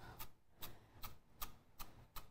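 Knife slicing chives on a cutting board, six evenly spaced crisp cuts, close and quiet with no talking.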